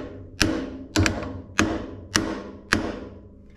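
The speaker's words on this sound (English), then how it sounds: "take a hammer and gently tap on the crank web" A hammer taps gently on a crankshaft web five times at an even pace, seating the crank during a KRASH KV997 rebuild. Each tap is a sharp, close metallic knock that rings briefly.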